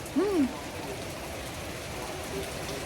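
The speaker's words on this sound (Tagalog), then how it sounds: "Lakas na ang ulan." Steady broadband hiss of rain falling continuously, with a brief voiced sound near the start rising over the downpour.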